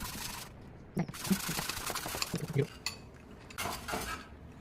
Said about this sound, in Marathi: आता आपण थोडं थोडं पीठ घालून विस्करने मिक्स करून घेणार आहोत